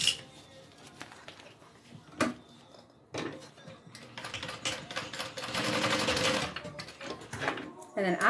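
A sewing machine top-stitching a fabric bag panel, bursts of rapid mechanical needle clatter that build into a long steady run before stopping, with light handling noises between.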